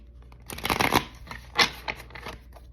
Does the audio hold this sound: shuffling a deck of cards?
yes